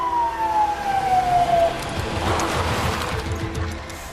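A police car siren wails with a descending tone at moderate distance, then fades into a murmur of traffic and vehicle noise.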